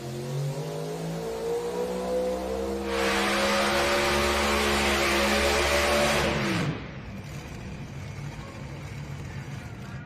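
Pulling tractor engine at an NTPA Grand Nationals tractor pull at the DeKalb County Fair in Sandwich, Illinois, revving hard and loud with a rising whine, then cutting off abruptly, leaving crowd and ambient noise.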